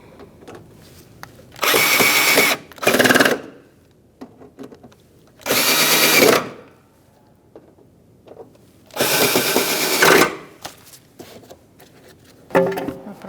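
Power tool snugging fender liner fasteners on a 2012-2017 Hyundai Accent, four separate whirring bursts of a few seconds each with quiet gaps between them, close and loud.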